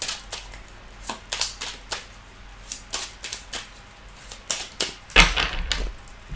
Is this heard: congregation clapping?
no